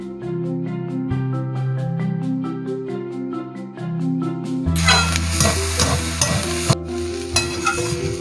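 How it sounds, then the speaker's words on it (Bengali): Spine gourd fries in oil in a wok. Humming music plays at first, then a loud burst of sizzling and stirring rises midway, with scraping clatter from the utensil. "দেখো কড়াইতে তেল ছেড়ে দিয়েছে আর লেগে যাচ্ছে না। কাঁকরোল ভাজাটা হয়ে গেছে"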